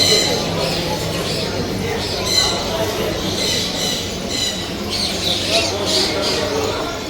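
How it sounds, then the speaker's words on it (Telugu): Birds at a crowded Sharjah bird and animal market squawk and chirp in repeated bright bursts over a constant busy background din, with voices of people mixed into the noise. "ఎక్కడ చూసినా బర్డ్స్, పిల్లులు, పావురాలు, పక్షులు"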